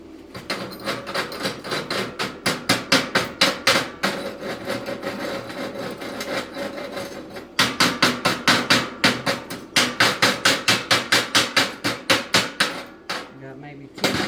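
Slag is chipped off a stick (SMAW) weld in rapid bursts of sharp metallic taps, several quick runs of strikes separated by brief pauses, close and fairly loud.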